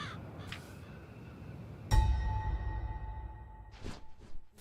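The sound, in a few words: crows cawing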